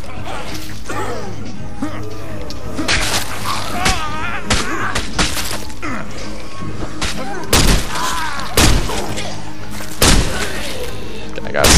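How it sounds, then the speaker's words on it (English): Gunshots and combat in State of Decay: loud, dense game action with sharp, impact-like cracks and bangs scattered through the clip, mixed with busy effects and chatter. "I got a sick shot with this thing."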